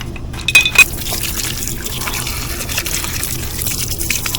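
Water gushes and splashes as a part fresh from an ultrasonic cleaner is rinsed, a steady close running flow with a couple of brief clinks near the start.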